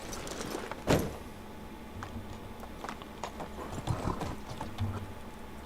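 Donkey hooves clip-clop in the medieval village game Medieval Dynasty, scattered soft taps with a sharper knock near the start, heard faintly and unevenly over a low ambient background with no speech.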